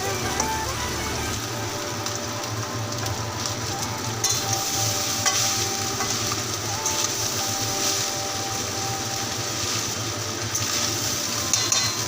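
Boiled rice stir-frying in a pan for vegetable fried rice, a continuous loud sizzle and crackle with scraping stirring noises, steady and close throughout.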